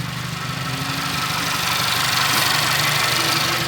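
A Volkswagen Jetta MK6 with a non-turbo 2.0 engine idles steadily, a loud, even, close-up rumble with no talking over it.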